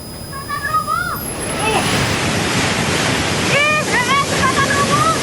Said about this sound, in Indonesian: Inilah luapan air Sungai Cikaret di Kelurahan Pasir Jaya, Kota Bogor, Jawa Barat